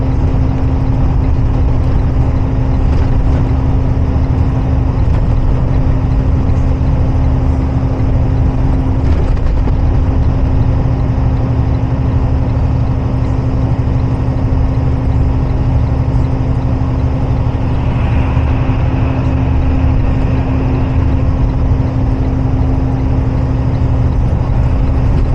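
An 80,000 lb semi truck descends a mountain on its engine brake, a loud, steady low rumble and drone that continues without a break throughout, heard from inside the cab.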